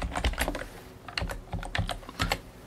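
A computer keyboard being typed on to enter a username, quick bursts of close, crisp key clicks with short pauses between clusters, no talking.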